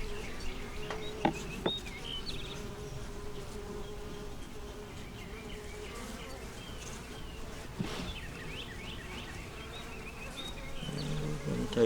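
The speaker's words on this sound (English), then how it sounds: "Watch out for the bees in between the frames." Honey bees buzz steadily around hive frames during a hive inspection, a soft, continuous drone with a few louder passes as individual bees fly close.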